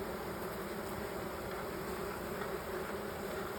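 Honeybees buzz loudly and steadily at an opened hive during an April hive inspection, a dense continuous drone close to the ear with no talking.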